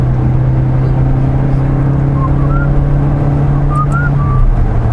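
A Ford Focus RS engine runs with the hood up, a loud, steady, close low drone that holds evenly throughout with little change in pitch.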